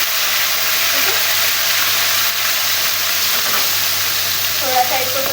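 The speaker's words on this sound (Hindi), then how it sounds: "फिर उसी कढ़ाई में उसी तेल में मैंने प्याज डाली।" Onions frying in oil in a kadai, a loud, dense, continuous sizzle with steady hissing crackle heard close up for several seconds, with no talking over it.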